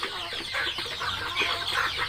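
Young native chickens about two to three months old, roughly seventy birds penned in a three-by-three-metre enclosure, cluck and chirp continuously as a close, busy flock with no talk.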